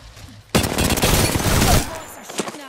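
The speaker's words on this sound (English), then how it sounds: "Bots are shooting at me." A sudden loud burst of rapid automatic gunfire from bots in the video game Horizon cuts in after a quiet moment, rattles steadily for over a second, then thins to scattered shots.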